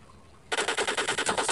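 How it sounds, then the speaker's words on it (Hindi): A rapid burst of about a dozen video game gunshots, loud and evenly spaced, starting abruptly after a brief quiet moment and firing in a fast steady rhythm. "ऊपर गोली चला रहा है"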